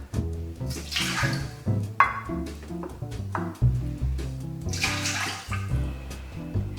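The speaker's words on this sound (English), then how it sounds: "And to that, we're going to add 2 cups of non-chlorinated water." Two cups of non-chlorinated water pour steadily into a metal pot for making mozzarella cheese, a continuous splashing gush with shifting tone as the level rises, close by.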